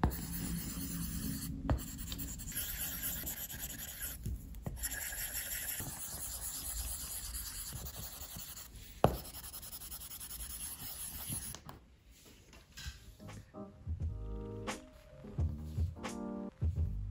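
A pencil writes on an iPad screen protector: close, continuous scratchy scribbling and stroking across the glossy surface, steady for most of the stretch, then lighter, broken strokes near the end.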